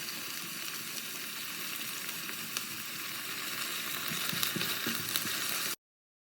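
Ginger garlic paste fries in ghee with onions in a pan, a loud continuous sizzle with a few light stirring clicks, ending abruptly.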